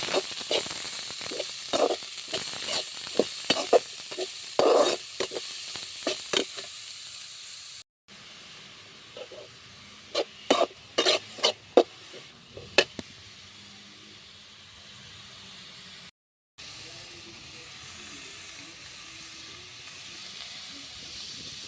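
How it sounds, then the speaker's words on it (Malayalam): Chopped spinach sizzling and hissing in a hot pan, with sharp spoon scrapes and clicks in irregular bursts while being stirred, close up, with a few brief silent gaps and no talking. "അരിഞ്ഞ് വെച്ചിരിക്കുന്ന നമ്മുടെ ചീര നമുക്കതിലോട്ട് വെക്കാം. നന്നായിട്ട് ഇളക്കി കൊടുക്കാം"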